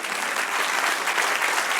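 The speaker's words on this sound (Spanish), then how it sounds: "Dale un aplauso al Señor." Congregation in a church clapping for the Lord, steady dense applause filling the short moment at an even, loud level.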